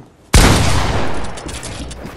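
A sudden loud burst of gunfire in Fortnite, with a sharp onset followed by a long ringing decay and scattered fainter shots trailing off.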